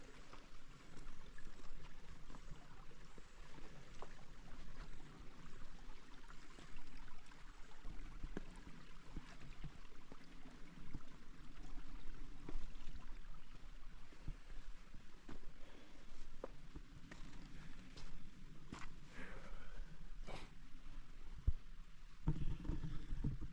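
Creek water flowing over big rocks at Devil's Bathtub, a steady low wash of moving water with scattered rustles and a few sharper knocks toward the end.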